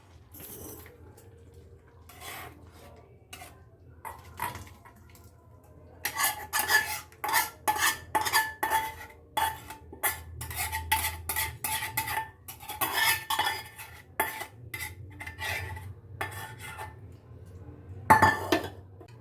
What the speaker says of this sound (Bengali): এবার নিভিয়ে নিয়ে একটা বলের মধ্যে ঢেলে নেব।